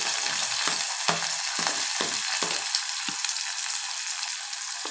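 Chopped onions hit hot oil while brinjal chutney is being made. A steady, bright sizzle runs throughout, broken by several soft thuds and scrapes of stirring.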